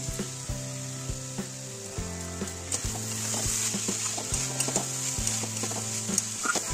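Rice sautéing in a pan with raisins and green chillies for a Bengali pulao, a bright continuous sizzle under rhythmic, knocking strokes of a spatula scraping and turning the grains.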